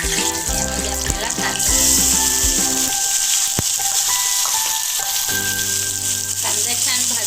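Onion frying in a pan with mustard seeds and curry leaves, a steady bright sizzle that runs throughout, joined by ringing metallic clinks and tonal scraping from stirring.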